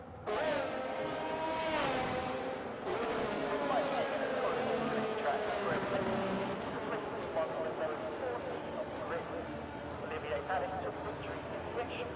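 Formula 1 race cars idling and revving on the starting grid in F1 22, a dense layered engine drone with rising harmonic whines, loud and continuous, fading slightly toward the end.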